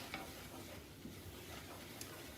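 Flour cooks in butter for a roux. A faint, steady sizzle runs throughout, with soft stirring scrapes and a few light clicks, heard quietly at a distance.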